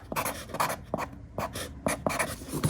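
A pen writes on a package being prepared for mailing, with several short scratching strokes separated by brief pauses. The strokes are close and clear, with no talking.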